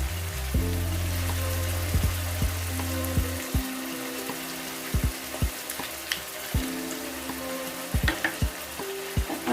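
Ginger and garlic paste, added after onion paste, frying in a pan for a prawn curd curry: a steady close sizzle with scattered sharp pops and spatters throughout, plus some stirring scrapes, no voices.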